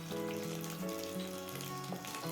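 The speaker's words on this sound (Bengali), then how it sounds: "তারপর কয়েক সেকেন্ড একটু নেড়ে চেড়ে ফোড়নটাকে ভালো করে ভেজে নেবো" Black cumin seeds and slit green chillies fry in hot oil, giving a steady, close, crackling sizzle that stays even throughout.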